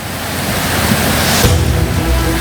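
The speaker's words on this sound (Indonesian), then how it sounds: "Derasnya arus Sungai Gelis dipicu turunnya hujan dengan intensitas tinggi sejak Jumat lalu" The Gelis river in flood after days of heavy rain, its strong current making a loud, continuous roaring rush of churning water, close and steady, with no voices.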